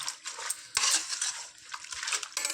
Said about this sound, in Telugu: వన్ స్పూన్ అల్లం వెల్లుల్లి పేస్ట్ ఈ మొత్తాన్ని ఒకసారి కలుపుకుందాం